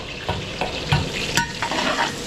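Garlic and onion sauté in a hot pan, a steady sizzle broken by several scraping stirs of the spatula, close and fairly loud with no voices.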